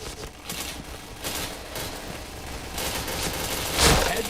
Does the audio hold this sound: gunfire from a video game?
yes